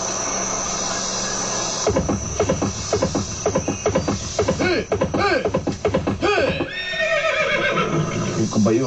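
A horse neighs loudly and close by in a long, shaky whinny, breaking into repeated wavering calls that then trail off, with insects buzzing faintly underneath and voices mixed in.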